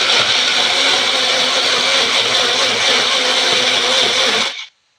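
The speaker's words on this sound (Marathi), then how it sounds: "2 चमचे तूप घालायचं आणि थोडंसं दूध घालून सुरुवातीला मिक्सरला फिरून घेतलं" A mixer grinder whirs steadily as it blends milk, ghee, sugar and cardamom, a loud continuous motor hum with churning liquid that runs for several seconds and then cuts off abruptly.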